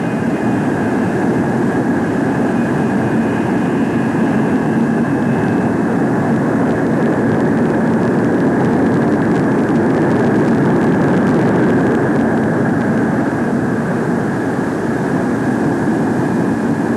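A Convair F-102 jet on approach and landing gives a loud, steady, broad roar that holds unbroken throughout, with a faint whine riding on top.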